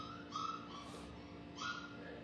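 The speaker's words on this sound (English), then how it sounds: "I got two puppies. You'll hear them." Two puppies give faint, high whimpers and yips, a couple of short thin cries spaced about a second apart, soft and somewhat distant against a quiet indoor background.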